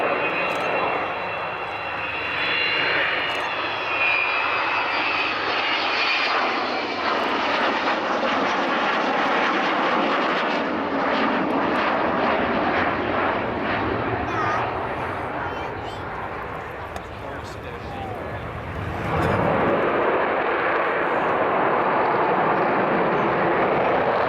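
Avro Vulcan jet bomber built in 1960, its engines roaring loudly and steadily at an RAF Cosford air display, a broad continuous jet rumble that dips briefly and then swells again near the end.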